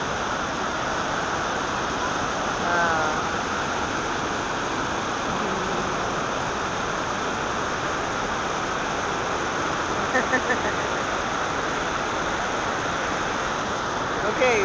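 The Nakagawa River flowing in a constant, loud, full rushing roar, like a nearby stream or small waterfall, steady throughout with no pauses.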